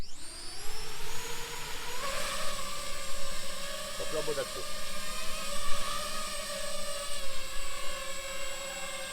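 A Vortex 230 racing drone's motors whir steadily with a high-pitched tonal buzz that rises and shifts, while someone talks over it.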